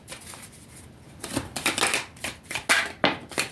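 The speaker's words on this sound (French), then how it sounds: "On va faire une coupe également" A deck of oracle cards is cut and shuffled, giving a series of soft riffling and slapping bursts up close, with no voice.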